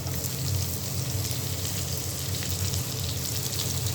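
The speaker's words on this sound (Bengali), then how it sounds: "আমি এখন বাগার দিব। দিয়ে দিলাম ঘি, দিয়ে দিল রসুন।" Chopped garlic dropped into hot ghee for a tempering, giving a constant close, crackling sizzle with a soft hiss and no voices.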